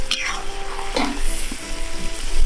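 Onion fries to a golden colour in a cauldron (kazan), with close, continuous sizzling, crackling fat and a few clinks of stirring.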